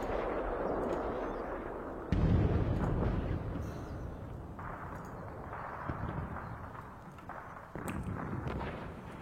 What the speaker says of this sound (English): So I may see some mortars just land up here.